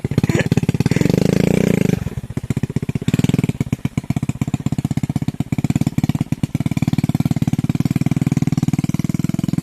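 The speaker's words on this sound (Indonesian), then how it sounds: "Berhubung ini motornya kecil tuh." Small motorcycle engine, running loud and close: a steady buzzing drone for about two seconds, then a rapid stuttering chatter of uneven revs that continues to the end.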